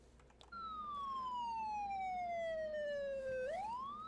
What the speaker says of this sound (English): That's what the siren sounds like.